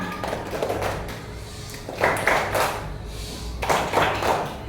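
A school class claps out a rhythmic group routine in a classroom, with several bursts of many hands clapping together between brief pauses.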